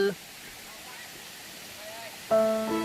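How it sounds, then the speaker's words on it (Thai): A waterfall at Khong Chiam in Ubon, Thailand, gives a steady, soft, hissing rush of falling water throughout, with someone speaking briefly at the very start and again near the end. "นี่น้ำตก"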